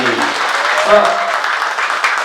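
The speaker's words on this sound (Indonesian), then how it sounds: "Tepuk tangan buat Anda semuanya." Applause from a youth audience at a mosque motivational session in Bandung, a dense, steady spread of clapping that stays loud to the end, with a voice briefly heard at the start.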